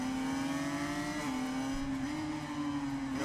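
Motorcycle engine in the racing game Ride 5, a 500cc championship bike, holding a steady high-pitched drone with slight pitch dips as it shifts, loud and continuous with no talk over it.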